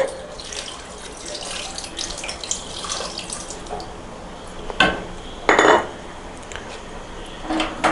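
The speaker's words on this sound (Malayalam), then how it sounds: "ശേഷം അല്പം വെള്ളം ഒഴിച്ച്" Water pouring into a pan of chicken with turmeric, chili powder and salt for a Kerala-style chicken roast, a soft trickling splash with a few louder pours and light clinks of utensils, close by and without talk.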